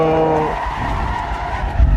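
Tires skid and screech as a car spins out in Assetto Corsa EVO, a loud sustained rasp over engine roar that ends in heavy low thumps.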